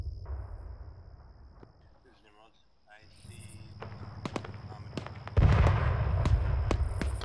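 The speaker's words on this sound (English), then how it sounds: "that cannon is so fucking loud" Sharp, loud cannon blasts in the military video game Arma 3, several distinct booms cutting through a rumbling battlefield bed that grows heavier midway, with people talking over the top.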